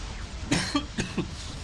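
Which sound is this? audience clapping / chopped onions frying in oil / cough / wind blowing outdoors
cough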